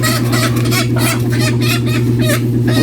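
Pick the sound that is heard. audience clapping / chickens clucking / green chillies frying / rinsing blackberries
chickens clucking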